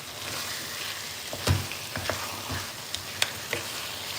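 A yellow turmeric (haldi) mixture fries in a pan, a quiet steady sizzle broken by soft scrapes and taps as it is stirred.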